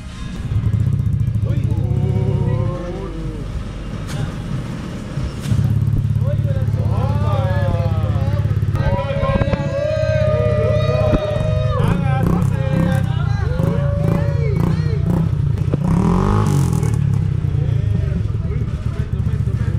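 A Honda ADV160 scooter fitted with a Bagong Power aftermarket exhaust runs close by with a steady, deep engine drone, dipping briefly early on before holding strong, while several people talk over it.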